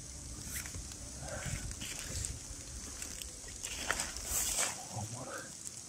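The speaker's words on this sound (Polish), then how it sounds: "Cały czas pada, non stop" Steady rain patters through a forest during a November hunt for porcini mushrooms, a continuous soft hiss with scattered drips, while faint voices and footsteps move underneath.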